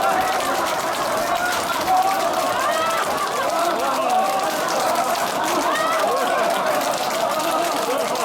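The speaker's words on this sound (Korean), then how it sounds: "박수 치면서 크게 웃습니다" Lecture audience at a laughter-for-happiness session laughing loudly while clapping, a boisterous group outburst of mixed voices cackling over continuous hand claps, sustained and fairly close throughout.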